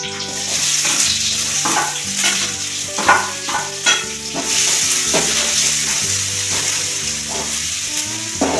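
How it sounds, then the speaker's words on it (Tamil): Onions sautéing in a pan of hot oil with whole spices, a loud continuous sizzle broken by repeated scraping and stirring strokes, close up with no voices. "வெங்காயம் போடுறேன்"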